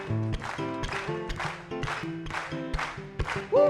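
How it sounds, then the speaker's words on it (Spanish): Rhythmic clapping from a church congregation applauding the King during a worship service, steady beats mixed with sustained musical tones. "Vamos a ver esas palmas para el Rey."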